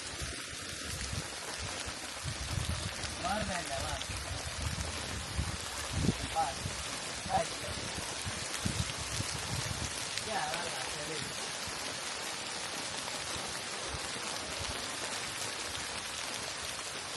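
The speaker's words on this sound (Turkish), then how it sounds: "Çok güzel yağmur yağıyor. Şu an bayağı bir yağmur bastırdı." Steady rain pours down on a campsite in a constant hiss with occasional heavier drips, and a voice talks faintly beneath it at times.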